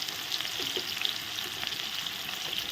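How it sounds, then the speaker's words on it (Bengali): A flour-coated boal fish head frying in hot oil, giving a steady close crackling sizzle with scattered small pops throughout. "এখন ভালো করে ভেজে নেবো"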